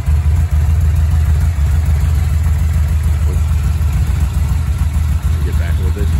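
A Yamaha VMax motorcycle engine idles close by with a loud, steady low rumble and slight irregular pulsing, continuous throughout with outdoor background noise.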